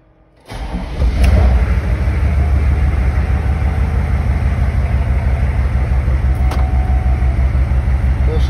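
A 6.5 diesel truck engine cranks and catches after a brief quiet moment, then settles into a loud, steady, rumbling idle close by, with a faint clatter throughout.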